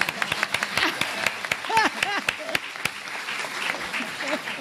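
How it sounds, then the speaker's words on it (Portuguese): A crowd breaks into lively applause with scattered sharp claps, mixed with cheering voices and laughter. "palmas!"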